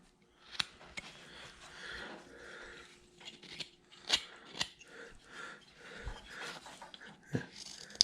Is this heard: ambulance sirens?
no